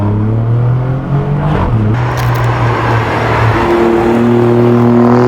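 A 2017 Alfa Romeo Giulia Quadrifoglio's twin-turbo engine roars loudly as it accelerates, its pitch climbing and dropping through gear changes, close and continuous.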